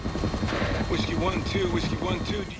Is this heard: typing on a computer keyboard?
no